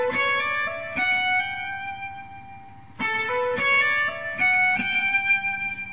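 Guitar playing a smooth run of single notes up the neck from Pachelbel's Canon in D, with clear picked notes, some slides between them and brief pauses, solo and close.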